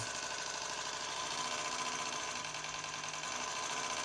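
Wire feed motor of an Iskra semi-automatic welder under repair for a feed fault, a steady mechanical whir and buzz running continuously at close range with no speech.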